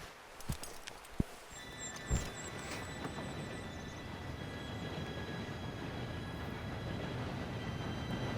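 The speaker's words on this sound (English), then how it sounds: "Train should be here any minute" A steam train approaches in Red Dead Redemption 2, a steady low rumble of wheels on rails building gradually, with a faint distant whistle tone and a few sharp clanks early on.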